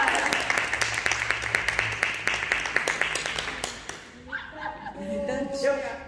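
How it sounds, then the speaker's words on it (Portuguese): Church congregation clapping for new students: a burst of close, uneven applause with sharp individual claps that fades out after about four seconds, followed by talking and murmuring voices. "Vamos aplaudir a Jesus pelos alunos novos?"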